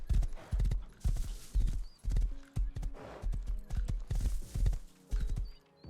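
Horse hooves clip-clop in steady rhythmic bursts in the survival video game Rust, a loud close galloping pattern with short pauses between runs and a faint tonal game sound.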